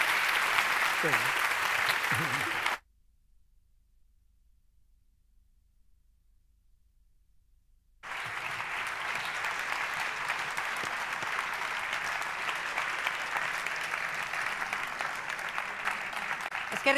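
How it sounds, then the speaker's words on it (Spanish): Sustained applause from an audience, broad and steady, breaking off into near silence before resuming at full strength for a long stretch. "Un aplauso para esta mujer que, ha aprendido a volar."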